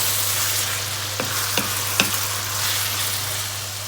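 Fatty minced pork stir-fried without oil crackles in a pan as a steady sizzle, with a few sharp scrapes or ticks from stirring standing out briefly above the hiss.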